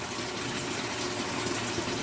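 Water leaks steadily from a cold water cap on a General Electric appliance, a constant close hiss and trickle with no talk over it.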